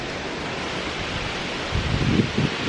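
Rushing water roars at Hinda Falls near Badulla, a dense, steady wash of noise throughout, with a slightly louder surge toward the end.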